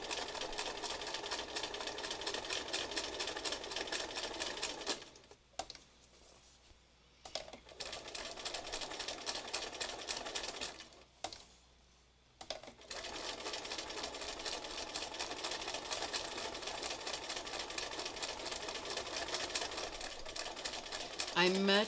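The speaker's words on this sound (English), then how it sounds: "I much prefer to do this kind of stitching free motion" Sewing machine running steady free-motion stitching, a loud continuous whirring hum that stops twice for brief pauses, with a voice speaking quietly underneath.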